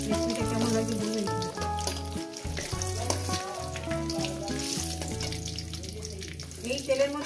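Egg frying in hot oil in a pan, a steady dense sizzle running throughout without pause, close and fairly loud, with tonal music playing over it.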